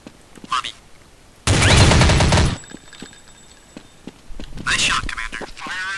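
Sustained automatic gunfire in Counter-Strike: Condition Zero, loud and close, with one long burst, a second later burst and scattered shots between them, alongside voice chatter.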